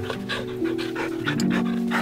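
A virtual dog in the VR game You Can Pet The Dog pants in quick, regular rhythmic breaths, close and steady, over a faint continuous background hum.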